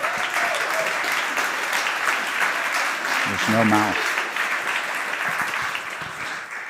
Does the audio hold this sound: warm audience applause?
yes